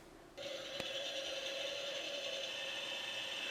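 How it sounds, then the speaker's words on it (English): A click as a Halloween image projector is switched on, then a steady mechanical whir with a high whine starts up and runs on evenly, close by. "I'll go ahead and flip this projector on so you can see how it works."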